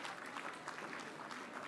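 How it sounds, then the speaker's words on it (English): Audience applause for elected officials at the Spirit of ABNY Awards event, a faint, steady patter of many hands clapping throughout, distant and fairly quiet. "let's please give them a round of applause."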